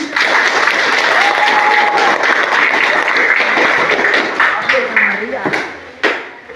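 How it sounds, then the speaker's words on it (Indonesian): Sustained applause from a classroom of ninth-grade students fills the room, steady and loud, with a few voices and scattered sharp taps mixed in before it fades. "Tepuk tangan."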